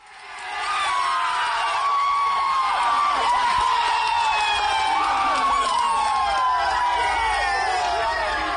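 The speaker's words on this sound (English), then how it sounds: "That is the sound of the players and coaches celebrating after reaching the 2020 World Cup in Australia." Papua New Guinea cricket players and coaches celebrating qualification for the 2020 World Cup in Australia, a sustained crowd of cheering, whooping and shouting voices with high whistles or shrieks over dense clamour, loud throughout after a brief rise.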